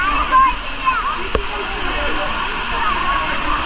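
A waterfall rushes in a steady, dense roar close by, heard from its top ledge, with a brief knock partway through and faint voices underneath.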